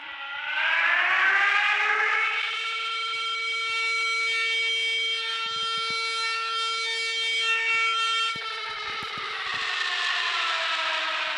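An AC alerter siren under test gives a steady, loud wailing tone that holds for about eleven seconds with a slight rise at the start and a dip near the end, with a few faint clicks underneath.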